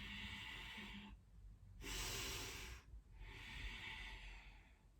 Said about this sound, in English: Resetting that Ujjayi breath through the nose if you can.